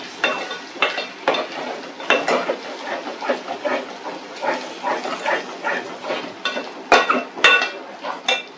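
Masala frying in oil for a salted-water jitada fish curry, stirred with a spoon in a pan, giving a steady sizzle broken by rhythmic scraping strokes and a few sharp clanks.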